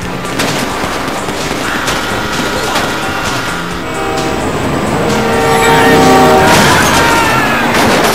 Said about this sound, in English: We move quick, we can beat the train!